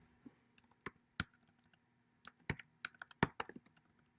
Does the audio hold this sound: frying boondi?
no